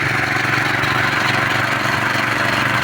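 A motoblock-powered garden pesticide sprayer runs steadily at pressure setting 4, giving a loud, continuous engine drone with a spraying hiss throughout, no talk over it.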